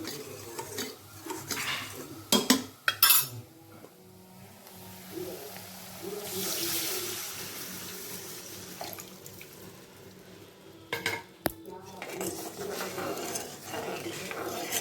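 Pithla, a gram flour batter, stirred in a pan, with scraping and tapping strokes, a few louder utensil clanks and a brief watery wash in between, close and quiet.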